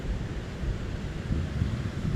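Sea waves and strong wind along Tagas boulevard on Katanduanes during Typhoon Pepito, a steady loud roar of surf and gusting wind buffeting the microphone throughout.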